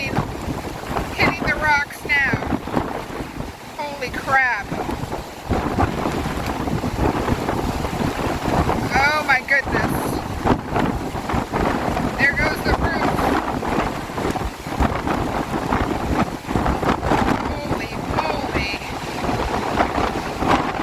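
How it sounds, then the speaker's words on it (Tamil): Strong storm wind roars and buffets the microphone while sea waves surge along the coast of the United States where a house is swept away, a loud continuous rush throughout with a news voice speaking over it. "அமெரிக்காவில் புயலின் போது வீசிய கடும் சூறாவளி காற்றில் கடற்கரையோர வீடு கடல் அலையில் அடித்துச் செல்லப்பட்ட"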